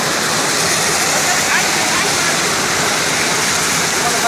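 Steady rain falling during a September trip in Russia, a dense, even hiss that stays constant throughout with no distinct drops or pauses.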